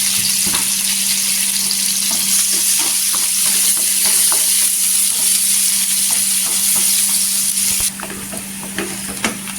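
Sliced onions, two or three, sizzle steadily in a spoonful of hot oil in a pan for a vegetable curry, with a constant bright hiss and occasional stirring scrapes; the sizzle drops slightly near the end. No one speaks.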